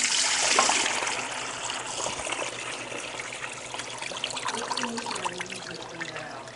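Hot water pouring and trickling into a container, a splashy gush at first settling into a steady close stream with small bubbling gurgles.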